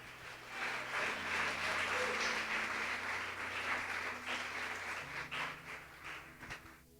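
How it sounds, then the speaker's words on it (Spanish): A church congregation applauds together through a Sunday morning sermon, a steady, moderately loud wash of clapping that thins toward the end, with a low instrumental drone sustained underneath. "¿Cuántos pueden aplaudir el nombre del Señor?"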